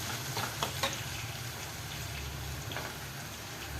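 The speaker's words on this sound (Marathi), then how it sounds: "टॅमॅटो चांगला परतून घ्यायचा." Tomato sautéing in a pan for egg bhurji, giving a steady close sizzle and crackle with faint stirring taps.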